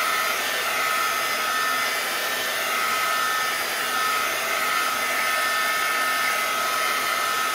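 A hair dryer blows steadily on a watercolor flower painting, a loud, continuous whirring hiss that holds even throughout with no pauses and no voices.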